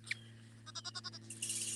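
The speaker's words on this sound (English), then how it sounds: "goats and Maudie and her 3 foster babies" Goats on a farm give a short series of faint, pulsing bleats, with a higher call near the start and a steady low hum behind.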